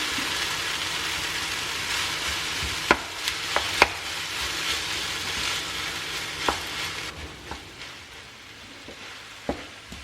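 Cooked rice with kimchi is stir-fried in a pan over reduced heat, a continuous close sizzle broken by sharp spatula knocks and scrapes, quieting slightly toward the end; nobody speaks.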